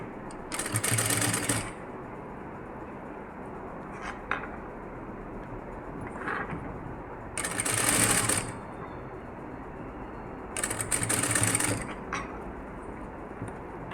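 Sewing machine stitching lace onto a blouse neckline in three short bursts of fast, close needle chatter, separated by quieter pauses with faint handling noises.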